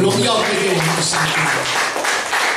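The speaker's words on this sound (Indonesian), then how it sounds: "Berikan tepuk tangan buat Tuhan." A church congregation claps and cheers during a Sunday worship service, the applause a dense wash running under a voice speaking over it for the whole short stretch.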